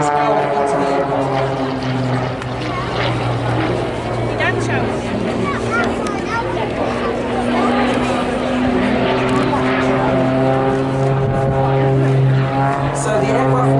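A display aircraft with jet turbines performs at the Blackpool airshow, a steady loud engine drone with a humming tone throughout while a commentator talks over it.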